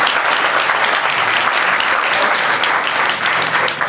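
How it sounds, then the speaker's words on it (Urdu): Loud, sustained applause from a church congregation honoring Pastor Wilson, a dense wash of clapping that holds steady for the whole stretch with no break. "پاسٹر ولسن صاحب کے لیے زوردار تالیاں بجائیں"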